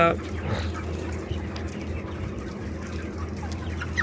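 Broiler chickens in a modern controlled-environment shed cluck as a dense, steady flock murmur under a constant low mechanical hum, with a voice speaking briefly at the start.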